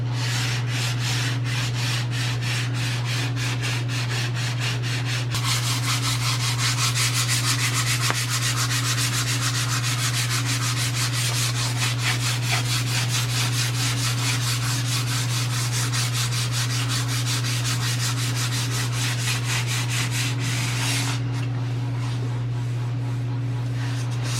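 Steady abrasive sanding of an old rusty Dodge car body rasps on without pause for the whole stretch, close and fairly loud, over a low constant machine hum.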